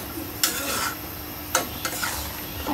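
Taro curry with gravy simmering in a pan while being stirred, a soft continuous sizzle broken by a few sharp scrapes and knocks of a utensil against the pan, close and alone.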